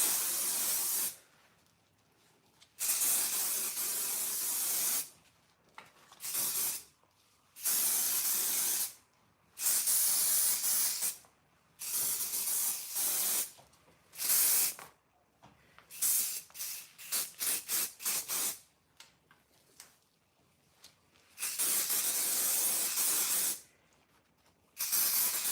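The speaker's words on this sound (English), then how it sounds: "I spray a little bit of holding spray like so" Hair holding spray is sprayed in a series of bursts, some long and some short, each a close, loud hiss with quiet pauses between them.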